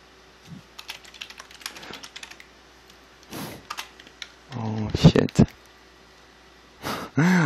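Keyboard typing for in-game chat in Tibia, quick light clicking in short runs, close and crisp, followed by louder bumps and someone speaking near the end.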